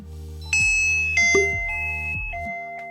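Three bright electronic chime tones from a SwitchBot video doorbell notification ring out one after another, each note holding and fading with a clean, bell-like ring.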